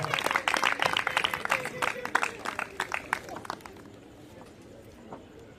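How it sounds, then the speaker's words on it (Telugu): A church congregation applauds to welcome a speaker, a dense burst of clapping from many hands that thins and fades out after a few seconds, with voices in the background. "వారు వస్తూ ఉండగా అందరూ కూడా చప్పట్లు కొట్టండి."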